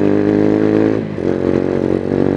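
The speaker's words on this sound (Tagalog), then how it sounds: "maraming motor ngayon kasi rush hour" Motorcycles in rush hour traffic make a steady, loud, close engine drone that dips briefly midway and then continues, with no speech.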